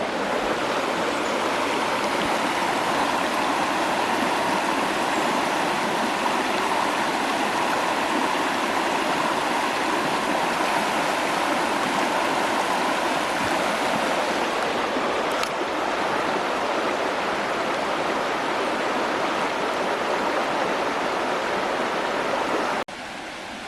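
A mountain stream tumbles over small rapids in Pisgah National Forest, a steady, close, full rush of water that runs unbroken with no voices.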